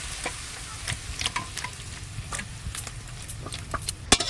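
A spoon scrapes and clinks against a pan as cooked Sankar fish curry with garam masala paste is poured out, with irregular light scraping taps over a soft, steady background hiss.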